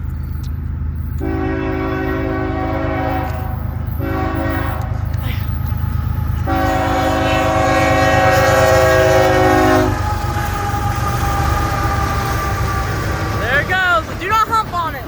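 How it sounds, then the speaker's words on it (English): A train horn blows loud, long blasts at the Christiana Fosterville Road level crossing near Fosterville, Tennessee, as the train rumbles past close by, its heavy rolling noise steady throughout. "Comes the train."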